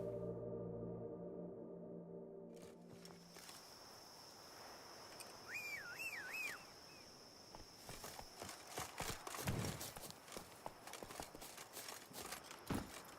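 A horse gallops in The Witcher 3: Wild Hunt, with quick rhythmic hoof clops that grow louder and denser over a faint ambient bed and crickets, plus a brief whistle-like tone partway through.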